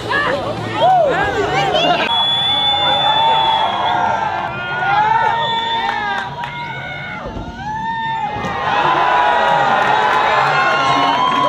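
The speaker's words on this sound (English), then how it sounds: "The crowd goes wild." A large crowd cheers, shouts and screams loudly and continuously at a party, with children's voices and excited whistles rising through a dense wall of noise.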